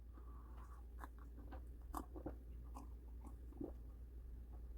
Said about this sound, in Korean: 좀 먹으면서 좀 씹어도 먹습니다